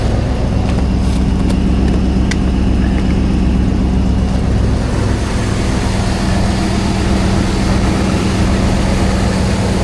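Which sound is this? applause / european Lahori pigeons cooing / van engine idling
van engine idling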